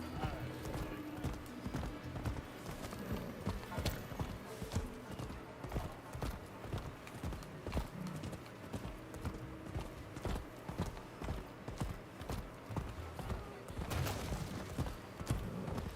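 Steady clip-clop of horse hooves trotting throughout, with occasional heavier thuds and a faint whinny-like sound in the game Rise of the Ronin on PS5.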